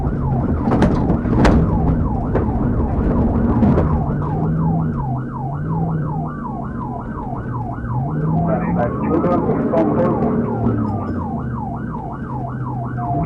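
Wailing police car sirens sound loud and continuous through a pursuit, the rising and falling yelp cycling rapidly over a steady engine and road roar.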